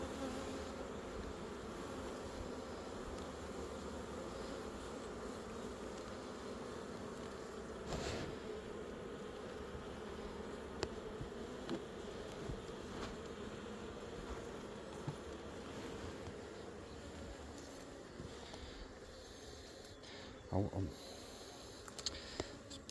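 Honey bees hum continuously around an open hive during frame replacement, a steady, close, low buzz with faint scattered clicks and knocks and soft voices underneath.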